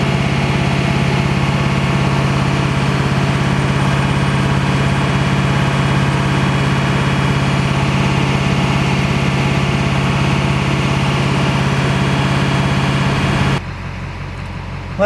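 A 2002 Duramax diesel truck engine idles with a loud, steady low rumble and clatter held at raised revs for about thirteen seconds before dropping abruptly to a quieter idle.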